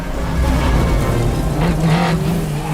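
Rally car racing down a sandy desert track, engine roaring loudly and close while sand and gravel spray and hiss against the body in gritty bursts.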